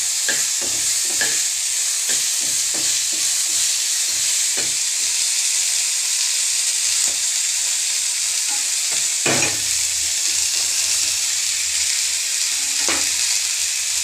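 Onion, tomato and salt fry in a pan over a lowered flame, giving a steady close sizzle with scattered scraping and stirring clicks throughout.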